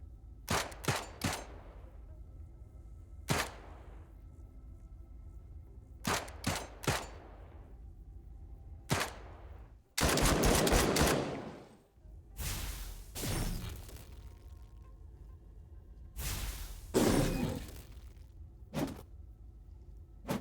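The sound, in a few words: gunshots in the video game Encased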